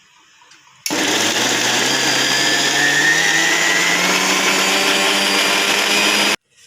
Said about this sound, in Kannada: ಸೊ ನಾನಿವಾಗ ಜಾರಿಗೆ ಹಾಕ್ಕೊಂಡು ಇದನ್ನು ಸ್ವಲ್ಪ ಮೊದಲಿಗೆ ಗ್ರೈಂಡ್ ಮಾಡ್ಕೊಳ್ತೀನಿ.